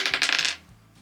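A die rolls and clatters across a tabletop during a crochet session, a quick burst of rattling bounces that settles within about half a second, then near silence.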